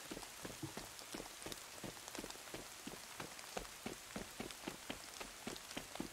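Rain in the video game DayZ patters steadily on surfaces, with closely spaced droplet taps in a continuous, soft rhythm, faint and unbroken.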